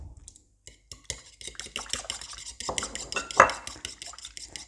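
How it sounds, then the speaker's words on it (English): Egg yolk being mixed into a kringle dough mixture in a bowl, with soft scraping and clinking of a utensil against the bowl in irregular strokes, one louder knock near the end, close and fairly quiet. "Give that a good mix."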